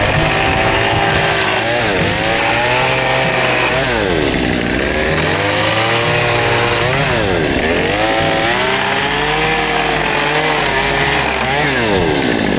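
A saw cuts through the 2x4s of a wooden pallet being taken apart, roaring loud and close for the whole stretch, its motor pitch dipping and rising again and again as the blade bites into the wood.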